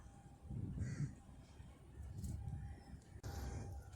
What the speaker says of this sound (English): that crow's got a bit of something on its beak, and off it goes